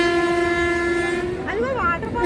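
A passenger train on the Visakhapatnam to Araku line sounds a loud, steady horn blast that bends in pitch toward the end, over the continuous rumble of the moving carriages.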